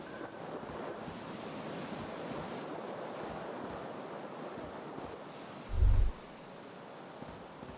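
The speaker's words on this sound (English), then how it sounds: "If a cool wind gushes in" Cool wind gushing through a smashed window in the video game Disco Elysium, a steady airy rush alone, with a brief low thump near the end.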